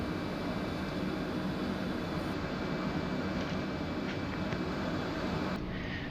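A passenger airplane comes in to land in Microsoft Flight Simulator on a flight from MKE to SDF. A steady, loud engine and air roar holds throughout, and the hiss thins out briefly near the end.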